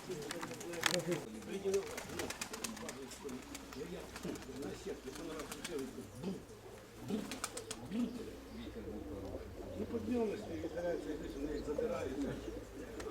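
Flying pigeons coo softly in low, rolling calls at a coop or loft, fairly near, while people talk over them throughout.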